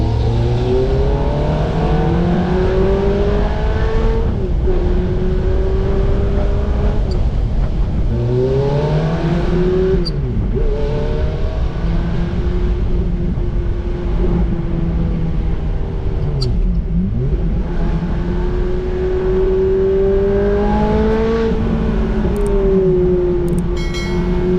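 A Ferrari F430 Spider with a manual gearbox accelerating hard, its engine note climbing and dropping through repeated rev sweeps as gears change, loud and close for the whole stretch, with no talking over it.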